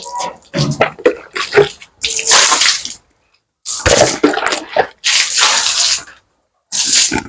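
Cleaning solution and water are poured while washing out a pig pen, heard as several loud, close bursts of splashing, gushing water separated by short silences.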